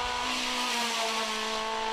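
A Lada prepared for hill-climb racing, on small rims and wide tyres, roars past with a loud, steady high-revving engine note and tyre noise, close and continuous.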